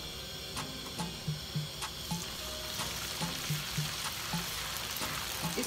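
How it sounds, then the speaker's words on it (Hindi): Ginger frying with golden onions in a pot for chicken dum biryani: a continuous quiet sizzle with rhythmic light taps and scrapes of stirring repeating every half second or so. "इसको हल्का सा फ्राई करूंगी"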